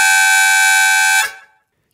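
A-key harmonica sounds a 6 overblow and 7 blow together, a harsh, buzzy major-second chord held loud and close for about a second before cutting off, with no voices.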